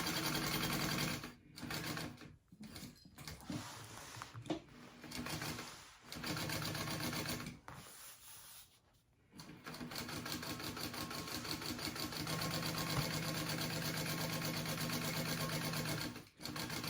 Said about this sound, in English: My machine can handle the layers, so I'm just basting the foam on.